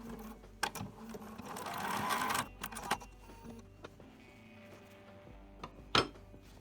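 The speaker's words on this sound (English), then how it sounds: "you are going to run a stitch right here along your elastic" A sewing machine runs a line of stitches along elastic inside a dress waistband casing, whirring steadily for about a second, surrounded by quieter handling clicks and bumps, close and fairly soft with no talking.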